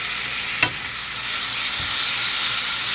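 Minced garlic sizzling in a hot pan for a chicken rice casserole, an even hiss that swells slightly after a single clink near the start, steady and close.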